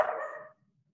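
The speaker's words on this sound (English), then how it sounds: "All we can hear is somebody's dog barking." A single short dog bark or yelp rings out on a call, fairly faint, and then fades into near silence.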